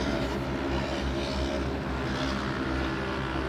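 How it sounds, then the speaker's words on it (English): A side-by-side off-road racer's engine roars during a short-course world finals race in Primm, Nevada, a loud, steady, rough drone with a deep throbbing hum and no talk. "Making some funny noises out of that engine."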